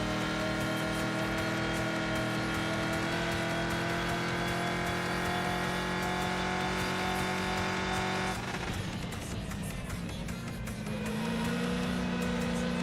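Race car engine in a racing video game, holding a strong steady drone near 3000 RPM with layered harmonic whine, then shifting and dropping pitch partway through before rising again, loud and close with no talk.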